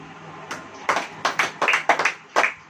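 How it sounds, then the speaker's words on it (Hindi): Members of a church congregation clap along during a Hindi sermon, giving a string of sharp, fairly close claps in an uneven rhythm, roughly two or three per second. "ताली बजाओ"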